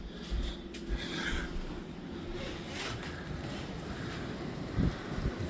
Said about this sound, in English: Keep getting these gusts.